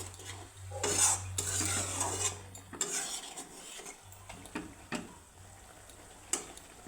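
Okra and poppy seed dish being stirred in a pan after raw mustard oil is added: continuous scraping and clinking of a utensil against the pan, close and moderately loud, with a faint sizzle underneath.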